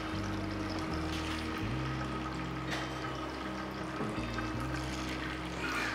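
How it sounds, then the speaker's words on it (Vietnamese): Tofu sizzles steadily in hot oil in a home kitchen pan, a continuous crackling hiss under a low hum, with no talking. "Bây giờ chúng ta sẽ thả đậu và các cụ mợ rán vàng cho cháu nhá."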